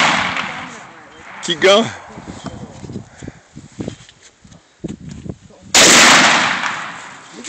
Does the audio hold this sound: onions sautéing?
no